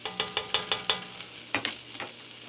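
Red bean mixture being stirred in a cooking pot, with a run of close, rhythmic scraping strokes under a faint sizzle, a short pause, then a few more stirs.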